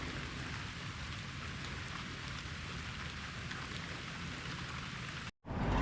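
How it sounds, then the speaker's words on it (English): Steady rain patters on a cloudy morning at a Lake Dardanelle State Park campground, a soft even hiss throughout, briefly cut off near the end, with no voices. "it's a cloudy, rainy morning"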